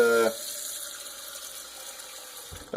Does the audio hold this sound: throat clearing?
no